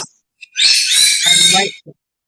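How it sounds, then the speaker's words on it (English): A small pet parrot calls indoors with a burst of shrill, squawking chirps and whistles lasting about a second, preceded and followed by short single peeps, close and loud. "Oh, that's a bird. that's the bird. It's a little parrot."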